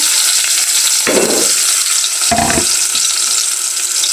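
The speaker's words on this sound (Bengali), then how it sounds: "এখন এই যে পেঁয়াজ ছিল সেটা কিন্তু আমি ঢেলে দিচ্ছি" Onions frying in hot oil in a pot, a loud, dense hissing sizzle throughout, with two short thuds and splashes of ingredients or a utensil, close up and without talk.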